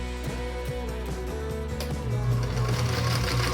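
Sewing machine stitching a nine-patch star quilt block, running in a steady, close mechanical whir with a rhythmic needle pulse that speeds up slightly partway through.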